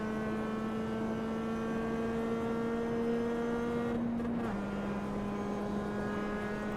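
A race car engine in the iRacing sim-racing game holds a steady, loud high-revving drone, then the pitch drops sharply as it downshifts under braking and settles into a lower whine.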